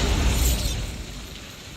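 A Bombarda blasting spell from a wizarding video game bursts loudly at once as a deep boom with a crackling shatter, then decays into a rumbling tail that fades over a second or so.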